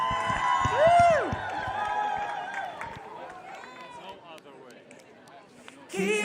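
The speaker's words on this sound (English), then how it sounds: "So please give a massive round of applause for LCGC, the London Community Gospel Choir." A premiere crowd in London cheers for the London Community Gospel Choir with rising whoops and shouting voices over scattered clapping. The noise peaks early, settles to a lower murmur, then jumps louder again at the very end.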